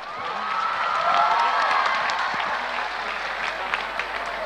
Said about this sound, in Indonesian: Berikan tepuk tangan 5 juta untuk Naya.